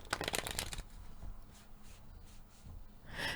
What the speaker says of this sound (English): Let me give it a couple more shuffles.